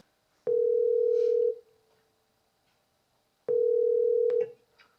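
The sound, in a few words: telephone ringing while placing a call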